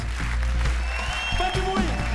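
Audience applause for a singer at a jazz concert, a steady wash of clapping from a crowd with some voices mixed in.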